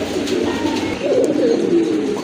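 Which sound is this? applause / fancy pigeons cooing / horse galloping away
fancy pigeons cooing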